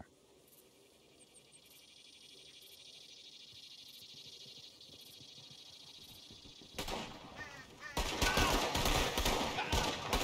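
Gunshots ring out in a Red Dead Redemption 2 duel: after a long stretch of quiet ambience with faint insect chirps, a few loud, sharp shots crack out in quick succession near the end.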